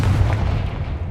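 Confringo fire spell cast in Hogwarts Legacy, a loud rumbling blast with a deep booming low end that stays dense and steady for about a second.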